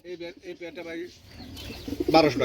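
Pigeons coo at a pigeon market, soft throaty calls up close, with people talking nearby.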